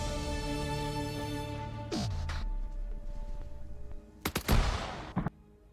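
In the video game Arma 3, a short burst of several sharp gunshots rings out from outside during a Cold War campaign mission, preceded by a steady tonal hum and a falling sweep, with no voices over it.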